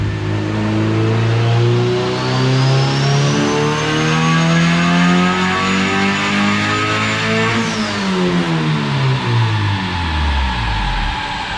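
A turbocharged Honda CRX engine revs hard on a dyno, a loud sustained roar climbing steadily in pitch for about eight seconds before dropping off sharply as the throttle closes.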